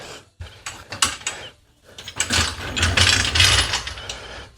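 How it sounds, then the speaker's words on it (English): A ratchet wrench working bolts loose from a car engine, with bursts of rapid clicking pawl ratcheting, short pauses and one longer sustained run of fast clicks close up, no talking. "the next step is to take the bolts out to remove the motor"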